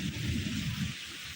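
Heavy rain with low rumbling and gusting from a thunderstorm with strong wind, a dense, continuous roar at close range with no voices.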